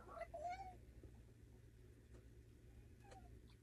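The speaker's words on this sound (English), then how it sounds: "Yeah, still meowing outside." Cat meows outdoors in the snow on a cold morning, one faint warbling meow followed by quieter calls over low background hum.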